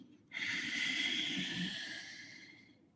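Slow, steady breath during a yoga breathing exercise, a single long airy exhale lasting over two seconds, close and fairly loud, with no talking.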